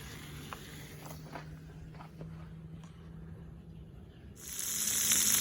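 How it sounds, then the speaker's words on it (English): Bacon crackles softly in a cast iron skillet at a campsite, then the sizzle swells into a loud, steady hiss near the end. "here's our end result at the campsite cooking bacon"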